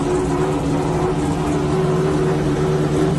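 A sports car engine with a Ferrari-like tone, likely a Lamborghini, holds a steady loud droning note with strong harmonics throughout, no voices over it.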